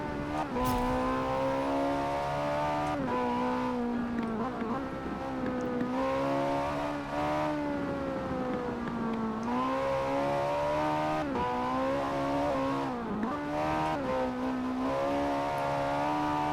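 Front-wheel-drive drift car in Forza Horizon 4, driven on a wet, rainy track with a steady, loud engine note that rises and falls through revs and shifts, continuous throughout with no talking.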